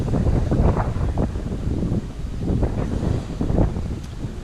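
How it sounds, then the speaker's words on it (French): Steady wind buffeting a microphone outdoors by a harbour with boats on Menorca, a continuous low rumble with gusts rising and falling. "heureusement qu'il y a un petit vent qui rafraîchit"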